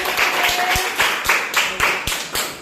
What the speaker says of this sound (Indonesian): kasih tepuk tangan untuk Cecil